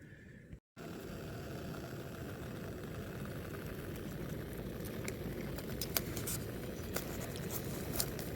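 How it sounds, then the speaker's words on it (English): Snowmelt water with debris in it boils on a trail camp stove, giving a faint, steady roar with fine bubbling patter and a few light ticks. A brief dropout occurs near the start. "There's going to be some debris in there, but I'm going to boil it."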